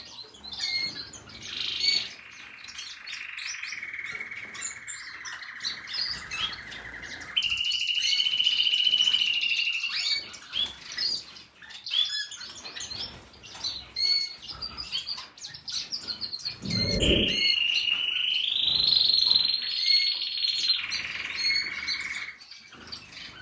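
Male caged songbirds singing in breeding season, loud continuous chirping and trilling warbles with rising and falling whistled phrases, close and busy throughout, with a brief low thump partway.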